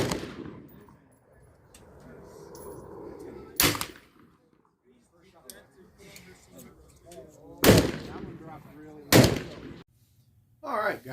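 AEA Zeus 16 inch air rifle firing, several sharp loud cracks spaced a few seconds apart with quieter handling noise and someone talking between shots.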